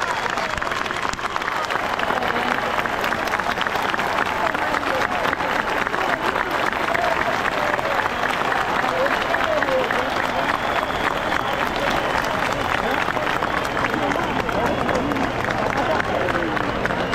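Crowd at a street demonstration on Avenida Paulista clapping steadily, dense and continuous for the whole stretch, with a busy hubbub of voices and shouts mixed underneath.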